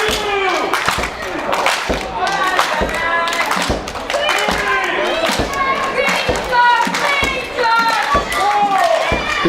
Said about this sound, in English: The crowd clapping.